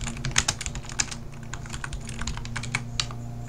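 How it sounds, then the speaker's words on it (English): Rapid typing on a computer keyboard, close and continuous, with irregular clicky keystrokes over a steady low hum and no talking. "Who is typing?"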